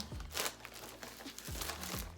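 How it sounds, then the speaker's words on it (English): Close, quiet crinkling of a plastic bag, with a few sharper rustles and crackles scattered through the short stretch. "it comes in a little plastic bag like this"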